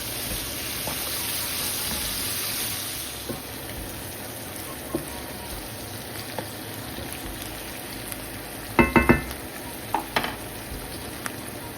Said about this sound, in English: Add in all of the veggies. Saute on medium-high heat.